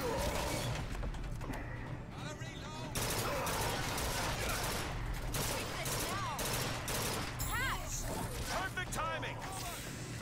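Bursts of gunfire in the video game Bioshock Infinite crackle through a busy mix of clanks and crashes, while people talk over the action.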